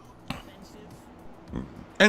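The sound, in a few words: a snort followed by a burp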